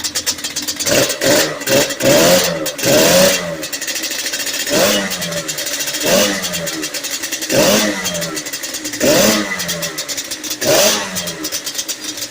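A rebuilt Yamaha Banshee 350 two-stroke engine on its first start, revving loudly and close in repeated bursts that rise and fall roughly every second or two, with no talking.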